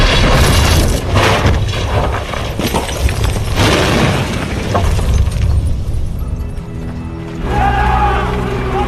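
In a dramatized WWII scene, a bomb in a bag left under a table near Hitler goes off as a loud blast with crashing, shattering debris. A rumbling, chaotic aftermath follows, and tonal sounds rise near the end.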